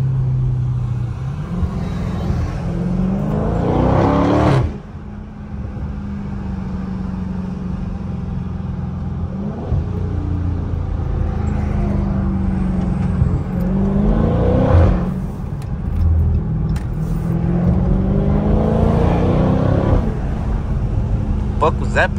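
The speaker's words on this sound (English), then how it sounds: "So, in track, you get a little bit louder exhaust, but you can't downshift as much." A 2023 Dodge Challenger Scat Pack in track mode is heard from inside the car. The exhaust rises loudly through rising revs, with abrupt drops at each gear change, repeated across the run with cabin and road noise underneath.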